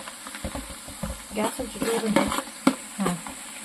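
Onions and pieces of bay leaf frying in oil for mutton biryani, a crackling sizzle with stirring scrapes and clatter, moderately close, with a voice speaking over it.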